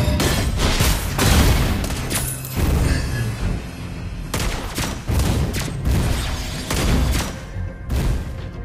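Repeated heavy gunfire bursts from Lesley's sniper rifle in the Mobile Legends video game, loud booming shots in quick succession with short gaps, layered over dense game effects.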